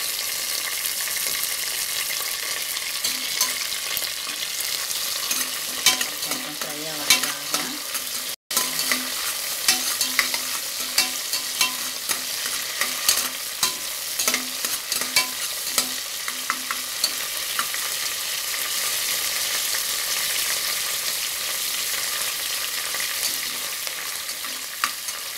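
Coriander, green chillies and mint fry loudly in a hot pan for spicy tomato rice, a dense steady sizzle running throughout with scattered crackles and occasional scrapes of stirring, close up with no talk.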